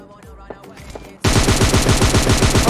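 PUBG Mobile Lite gunfire: a few scattered single shots, then a sudden loud, sustained burst of rapid automatic fire in an even rhythm, close and dominant.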